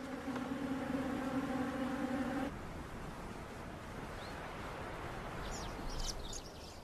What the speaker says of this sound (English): sometimes they attract thirsty bees drawn to this unlikely source of moisture